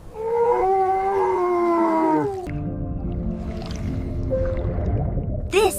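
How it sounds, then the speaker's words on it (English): A small sandy desert wolf lets out a long, wavering howl held for about two seconds, then gives lower, fainter howling tones, ending in a brief sharp yip. "This is a small sandy desert wolf."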